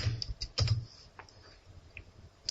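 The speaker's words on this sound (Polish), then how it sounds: "Tutaj wpisujemy poszukiwany wyraz." Keys clack on a computer keyboard in a short burst of quiet typing, a few irregular taps and clicks close by with no talking.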